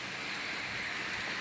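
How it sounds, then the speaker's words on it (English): Rain falls outdoors on a rainy Sunday, a soft, even hiss with no breaks, fairly faint and steady. "It's indeed raining."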